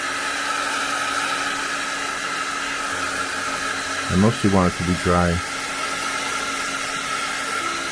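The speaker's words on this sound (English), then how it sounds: "I'll speed up the process a little bit with my dryer," A Pro Heater hair dryer blows a steady, loud whooshing drone over watercolor paint on paper, running continuously while a person briefly speaks partway through.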